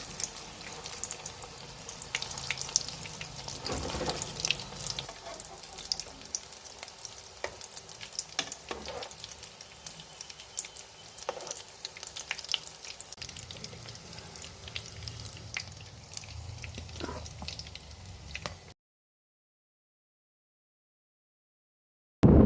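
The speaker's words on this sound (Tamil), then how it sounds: "ஸ்லோ ஃப்ளேமில் வச்சு 2 பக்கமும் திருப்பி விட்டு வேக வச்சு எடுத்துக்க வேண்டியதான்." Egg lollipop balls fry in oil over a slow flame with a continuous soft sizzle and occasional stirring, close and moderately quiet, ending in silence with a short final burst.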